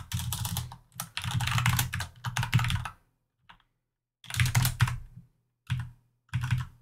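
Fast typing on a computer keyboard comes in several clattering bursts with short pauses between them, close and clear with no voices.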